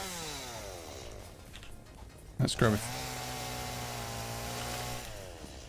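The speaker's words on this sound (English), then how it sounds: "grab our chainsaw." A chainsaw in the video game Satisfactory starts with a sharp burst and then holds a loud, steady buzzing drone. Someone speaks briefly just before it starts.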